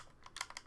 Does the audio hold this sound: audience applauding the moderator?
no